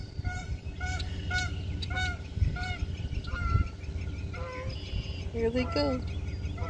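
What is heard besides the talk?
swans and ducks honking by the water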